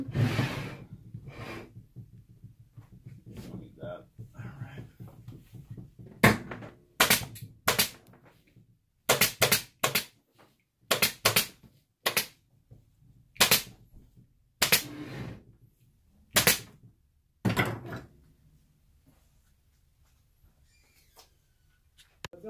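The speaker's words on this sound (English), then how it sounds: "Then when I staple in the corners, I staple it higher." Staple gun firing into fabric stretched over a Parsons chair seat, sharp close snapping shots in irregular clusters of one to three, some quick doubles, fading out into quiet at the end.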